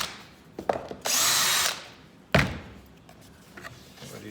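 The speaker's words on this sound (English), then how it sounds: "Take the clamps off. Unscrew your template." Power drill whirring for about half a second while unscrewing a stair routing template, preceded by light clicks and followed by a sharp knock as the template is handled, alone in a quiet workshop.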